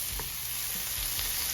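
Red peppers and garlic sizzle and fry in a pan for a vegan black bean burger, a soft steady crackle with a few faint stirring clicks.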